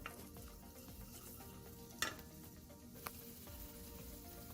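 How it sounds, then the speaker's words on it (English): Minced garlic frying in hot oil gives a faint, continuous crackling sizzle, broken by a couple of brief utensil knocks. "I'm going to mix it well and fry it for 5 minutes in the oil."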